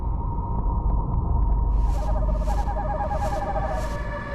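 An owl hoots in a mythological drama, its soft repeated calls sounding over a sustained tonal musical backdrop and low rumble.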